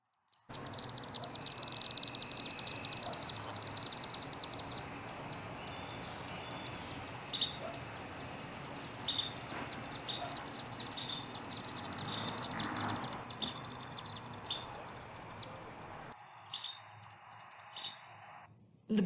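Chimney swifts chatter outdoors along the Fox River, a dense, continuous wash of high chirps and twittering from many birds, moderately distant, over a steady background hum, before the sound suddenly drops away.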